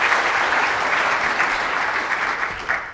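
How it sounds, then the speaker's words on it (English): Warm applause from an audience at NIST welcoming a guest speaker to a presentation, a loud, dense, unbroken wash of many hands clapping together at a steady level across the whole stretch, no talking on top. "give him a warm round of applause"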